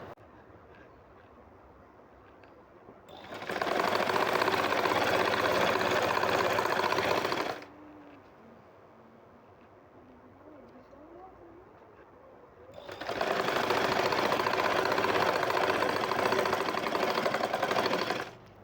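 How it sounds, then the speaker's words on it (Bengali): A sewing machine stitches the side seam of burqa fabric in two loud, steady bursts of several seconds each, with quiet room tone between them and no talk over the motor. "এখন আমি সাইডের অংশটা সেলাই করে নেব আমি এই পাশটা সেলাই করে নিব"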